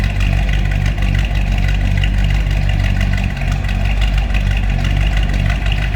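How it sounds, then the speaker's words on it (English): A 1960 Chevrolet El Camino with a 283 V8 idles steadily close by, a deep rumbling throb with a slight lope and no voices over it. "Slip around, see how that 283 sounds."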